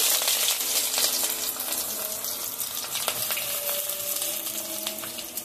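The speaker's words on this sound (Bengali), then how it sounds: "পেঁয়াজটা কিছু সময় ভেজে নেব" Onion and whole spices (cinnamon, cloves, black pepper, cardamom) fry in hot oil for a home chicken and vegetable curry, giving a steady close sizzle with scattered crackles and pops throughout, no talking.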